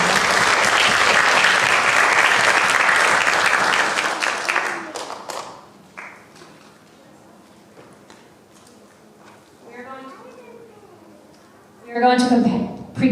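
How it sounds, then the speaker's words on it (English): An audience at a school math competition gives the competitors a loud round of applause that lasts about four seconds and then fades out. Quiet murmurs and a voice follow, and a short burst of sound closes it. "Let's give them a round of applause again."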